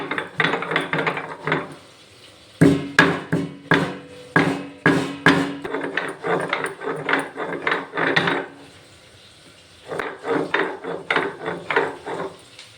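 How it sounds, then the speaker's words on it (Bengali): One cardamom pod and a cinnamon stick being crushed by hand on a grinding stone for a home-style chicken curry with potatoes: rapid repeated scraping and knocking strokes in loud rhythmic bursts, a brief pause, then more strokes. "দেখতেই পাচ্ছেন একটা এলাচি একটা দারচিনি বেটে নিচ্ছি"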